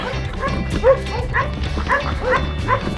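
Several dogs bark repeatedly and fairly close at night, overlapping in an uneven chorus with a few higher yips.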